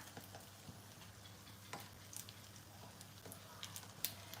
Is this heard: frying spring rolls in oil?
yes